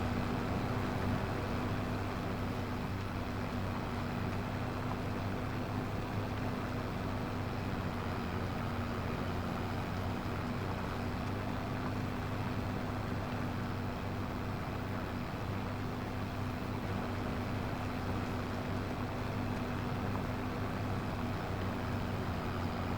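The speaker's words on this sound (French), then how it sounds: "C'est quand même un bon petit tracteur, ça, le classe là, 960." A Claas 960 tractor engine runs steadily on a farm, a continuous, even drone with a low hum that holds without change for the whole stretch, no voices over it.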